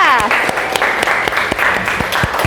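A room of class participants claps for a fellow participant, a dense burst of hand claps that starts loud and close, with a voice speaking over the start.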